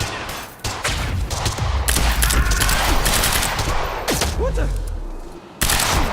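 Sustained automatic gunfire in the video game Quantum Break, loud dense bursts of rapid shots with brief gaps, under shouted voices.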